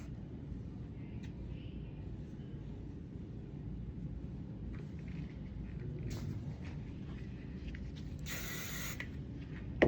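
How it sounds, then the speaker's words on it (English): Workable hairspray spritzes onto hair in a short aerosol burst near the end, faint over steady low room rumble. "Little hairspray. A workable hairspray is fine."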